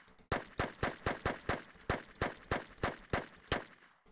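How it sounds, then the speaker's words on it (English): Gunfire in the video game Offensive Combat while the weapon runs low on ammo: about a dozen evenly spaced sharp shots, each with a metallic ring, loud and close with no speech. "There's actually a change in the sounds when you're running low on ammo."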